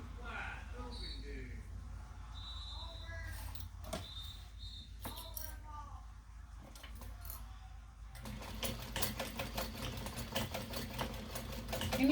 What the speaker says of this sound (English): you want to give it some reinforced stitching